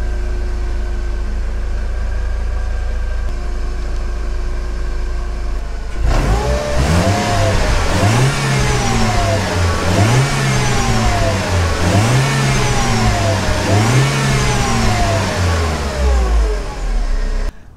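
A Mercedes-Benz W203 C200 Kompressor idles at first, then its engine is revved again and again in a steady rising-and-falling rhythm, loud and close with no voices.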